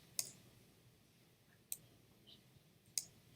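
Three sharp, faint clicks of a computer mouse, spaced about one and a half seconds apart against a quiet room background, while working in Adobe Illustrator.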